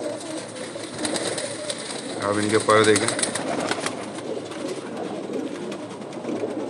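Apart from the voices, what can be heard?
pigeons cooing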